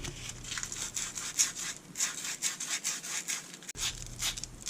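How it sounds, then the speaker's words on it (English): Hand sanding a golf club part with sandpaper wrapped around it during a Maltby Max Milled wedge install: steady back-and-forth rubbing strokes, close and moderately loud, with a brief pause near the end. "you'll get your sandpaper, wrap it around, and just give it a little cleanup"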